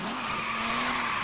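Car drifting in the Forza Horizon 3 racing game with the Hot Wheels expansion, a sustained, loud tire skid squeal with a steady engine tone underneath, continuous for the whole moment.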